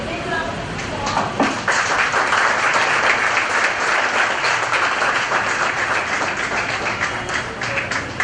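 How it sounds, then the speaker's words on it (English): Audience applause at the Ignite Cup 2023 prize distribution ceremony, a dense, steady roar of many hands clapping that holds loud and even for the whole stretch, with no talking over it. "So, big round of applause."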